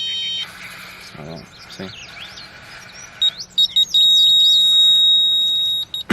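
A Johnson rotary laser level receiver sounds a steady electronic beeping tone in repeated pulses, then holds as a continuous beep, following a brief spoken word over outdoor background noise at a foundation form.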